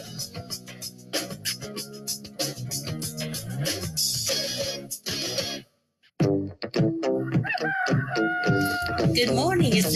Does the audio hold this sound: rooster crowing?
yes